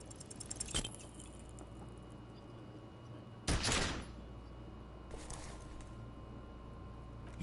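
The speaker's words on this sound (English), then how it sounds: "You hear an explosion within the weapon in your hands." A gunshot from a weapon in a video game, one sharp loud burst standing out against quiet background ambience, with smaller clicks and bursts before and after it.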